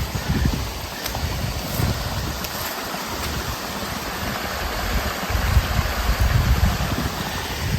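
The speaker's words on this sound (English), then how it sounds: "I can hear fast flowing water" Fast-flowing rainwater running off a mountainside during heavy rain, a steady broad rushing wash that stays loud and continuous throughout with slight surges, no voices.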